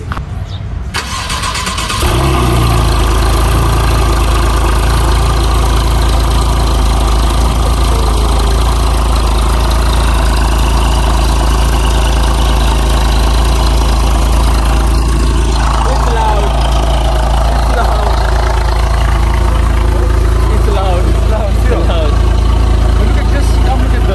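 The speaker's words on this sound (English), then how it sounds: "let's get a cold start" Porsche 911 Carrera with a 7-speed gearbox fires up from cold, its engine catching after about two seconds and settling into a loud, steady idle that runs throughout, with voices talking over it.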